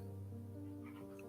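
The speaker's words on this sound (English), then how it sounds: "my cat is driving me nuts over here." A cat meows indoors in a quiet room, a faint, brief, drawn-out call heard alone with no talking.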